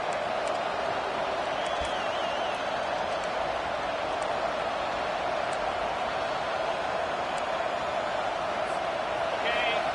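Stadium crowd at a football game roaring steadily as the defense tries to hold in the red zone, a continuous wash of cheering and noise throughout, with faint play-by-play commentary underneath.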